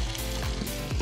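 Food sizzles and fries in a hot wok during Hakka home cooking, giving a dense, continuous crackle with slight surges. It sounds close and fairly loud, and there is no speech.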